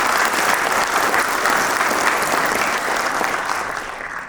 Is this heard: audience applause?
yes